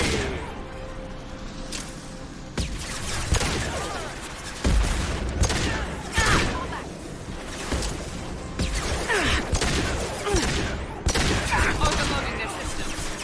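Mass Effect 2 combat gunfire crackles in repeated bursts and volleys with occasional heavier impacts and whooshes, steady and close across the stretch, while a voice talks faintly underneath.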